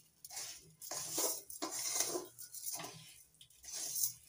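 Sugar being stirred and melted into caramel in a pan for raw papaya naru, with repeated scraping and clinking of a utensil against the pan in short bursts, close and fairly quiet, no talking.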